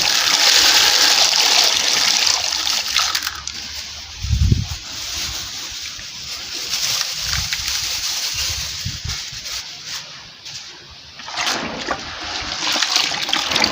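Beans being washed by hand in a basin of water, with continuous sloshing and splashing close by and a louder swirl of water midway.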